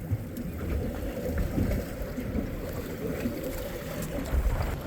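Small fishing boat rocking in ocean waves at the Buoy 10 fishery, with steady wash of water and wind rumbling close and continuous throughout.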